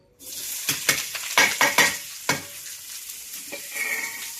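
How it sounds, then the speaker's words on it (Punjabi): Garlic, ginger and onion fry lightly in a pan for kadai paneer: a steady sizzle with repeated sharp scraping strokes of stirring, close up and without talk. "ਹੁਣ ਆਪਾਂ ਇਹਦੇ ਵਿੱਚ ਹਲਕੇ ਫਰਾਈ ਕਰਾਂਗੇ ਲਸਣ ਅਦਰਕ ਤੇ ਪਿਆਜ਼"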